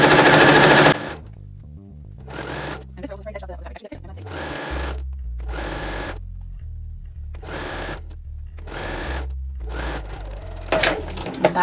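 Sewing machine stitching bias tape around the neck opening of a woven-fabric top, running in about half a dozen short, even bursts separated by pauses and faint handling noises.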